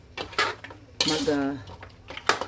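A spoon stirring kare-kare in a metal pot after annatto coloring is added, giving sharp clanks and a ringing scrape against the pot in a few separate strokes.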